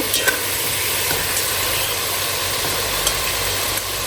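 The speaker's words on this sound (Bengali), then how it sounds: "এইদিকে তো চিংড়ি মাছগুলো ফ্রাই হচ্ছে" Prawns frying in a pan with spices for a vegetable curry, giving a steady, dense sizzle that stays even and close throughout, with no talking.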